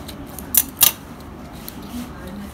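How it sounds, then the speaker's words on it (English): Scissors cut a white color sheet with two sharp, close snips in quick succession, the rest of the moment quiet room tone. "I'm also cutting some white color sheet that has come over here"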